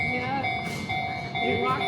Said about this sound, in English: 3 train tracks, and we're gonna get stuck by one right now